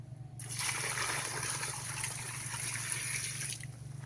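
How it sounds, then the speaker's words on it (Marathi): Water pours into a container of cow dung, a continuous close splashing stream lasting about three seconds over a low steady hum, then stopping abruptly. "आपण आता शेणामध्ये बी पाणी टाकून शेणाचं पाणी करू"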